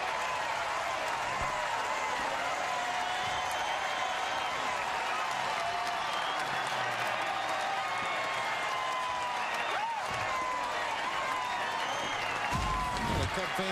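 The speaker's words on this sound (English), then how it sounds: "Fans finally with something to cheer about on the offensive side." A ballpark crowd applauds and cheers after a Cubs grand slam, a broad, sustained roar heard from a distance, with a commentator talking over it throughout.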